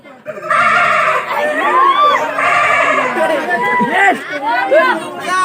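A man on a comedy stage imitates a mother goat bleating for her kid, a loud, continuous warbling vocal imitation with wavering, crying tones across the whole stretch.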